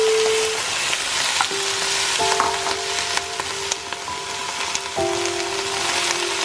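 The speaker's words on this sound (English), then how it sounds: "In the meantime, we also fry our onion." Onions frying in oil in a pan while an eggplant fry is cooked, a steady close crackling sizzle with occasional utensil scrapes and faint tonal background hums, no talking.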